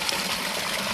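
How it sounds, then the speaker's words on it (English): Water pours steadily and loudly into a pony's water trough, a continuous splashing gush with no voices. "This is why I'm going to top the water up now"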